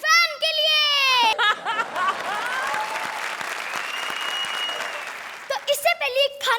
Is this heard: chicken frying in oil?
no